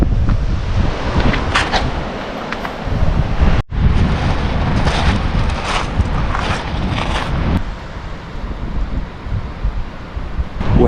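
Wind buffets the microphone steadily on a beach while surf washes in with the incoming tide, a loud continuous roar with a brief dropout partway through and no voices.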